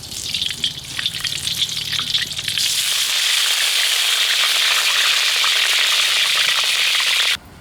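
Cow ghee sizzling loudly in a pan for a village-style Karnataka chicken ghee roast, a close, steady frying hiss that swells partway through and cuts off abruptly near the end.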